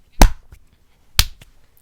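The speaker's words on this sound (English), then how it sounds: "I just clapped, so it'll be synced." Two sharp hand claps about a second apart, each a close, loud, crisp crack followed by a faint softer echo tap, in a quiet room.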